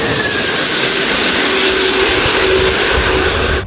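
An airplane taking off, its loud, steady jet roar filling the whole stretch at close range without letting up, with no talking.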